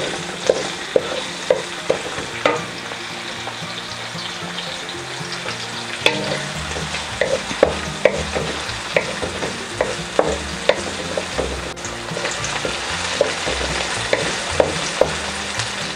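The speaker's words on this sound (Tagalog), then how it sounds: "isunod na rin po natin itong ating sibuyas. Hahaluin po natin hanggang sa medyo maluto yung ating" Onions fry in a pan for squid adobo with eggs, a loud continuous sizzle broken by regular scrapes and taps of a utensil stirring them.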